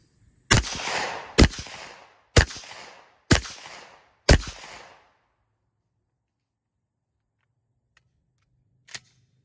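A 12 gauge shotgun fitted with a Salvo 12 suppressor fires outdoors, five sharp, loud muffled shots at roughly one-second intervals, each with a short decaying tail, followed by quiet and a faint click near the end.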